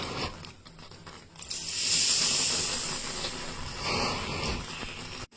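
Milk is poured into hot ghee in a pan while making mohanthal, bursting into a loud close hiss of sizzling steam that swells after a second and carries on steadily, easing slightly near the end.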